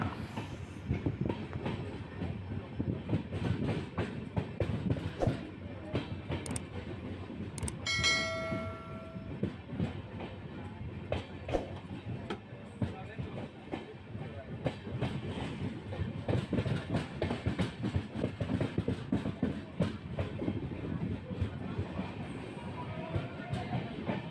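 The Mysuru-Shirdi Express rolls into Birur Junction with a steady rumble of wheels and rhythmic clickety-clack over rail joints, heard from on board, with a brief ringing tone partway through.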